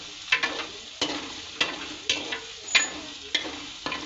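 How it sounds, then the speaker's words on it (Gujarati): Chopped onions tossed into hot oil, sautéing for a bread sandwich filling, with a series of sharp scraping stirs at regular intervals over a steady sizzle, close and fairly quiet. "આ ડુંગળી છે જેને સુધારી લીધેલી છે એને આપણે સાતરી લઈ તેલમાં."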